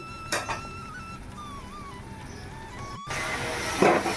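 Water is poured into a hot cooking pan of gravy, setting off a sudden loud, broad hiss and sputter near the end after a quieter stretch of low kitchen hum.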